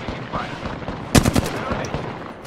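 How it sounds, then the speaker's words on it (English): Gunfire in the video game Apex Legends: a short burst of several quick shots cracks out mid-clip, loud against a steady backdrop of game noise and faint voices. "Taking fire."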